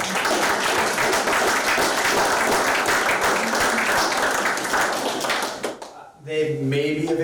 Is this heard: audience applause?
yes